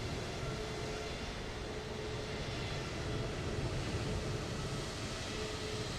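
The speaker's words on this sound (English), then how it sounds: "Look at that plane taking off beside us here." An Emirates airliner takes off nearby in Microsoft Flight Simulator 2024, a steady, even jet roar holding at moderate level throughout.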